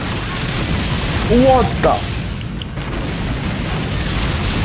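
A rocket blows up with a booming burst in Lollipop Chainsaw RePoP, a loud swelling rumble that peaks briefly before settling into steady game noise, with a startled voice speaking over it.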